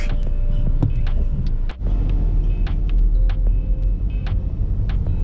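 City road traffic in Pasay on a rainy Saturday, with a continuous low rumble of cars and buses crawling through stop-and-go congestion, one brief dip in the middle, heard alone with no talk.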